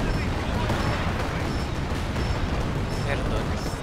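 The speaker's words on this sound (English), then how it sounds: "Uy, super mortar." Mortar fire and explosions in the video game Company of Heroes 2, a dense continuous rumble of blasts and battle noise, loud, with a voice talking over it.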